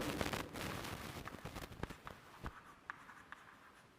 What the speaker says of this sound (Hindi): तो मैं उनका नाम लिख रहा हूँ